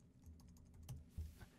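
Fingers type on a computer keyboard, a close, quiet series of soft clicks and taps, including a couple of heavier key presses near the end.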